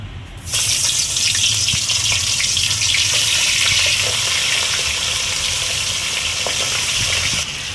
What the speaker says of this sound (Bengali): মাছটা ফ্রাই হচ্ছে, একদিকটা ফ্রাই হোক